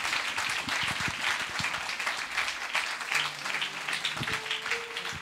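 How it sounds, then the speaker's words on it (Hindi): Congregation clapping during a Christian sermon in India, a sustained wash of many hands applauding, with low thumps and a brief sustained tone near the end under the crowd. "मुझे लगा आप लोग ताली बजाएंगे।"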